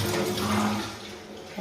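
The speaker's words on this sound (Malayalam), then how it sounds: "കപ്പങ്ങയിലേക്ക് കപ്പങ്ങ എടുത്ത് നമ്മൾ വെള്ളം ഒഴിച്ച് കൊടുത്തു." Water poured into a pan of raw papaya and cowpea curry, a steady close rushing splash that eases off slightly toward the end, with no talking.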